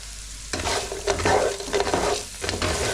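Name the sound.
stir-frying chips with onions, chilies and peppers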